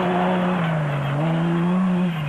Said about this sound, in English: The BB Auto Nissan of Arnold du Plessis and John Knox was still sounding well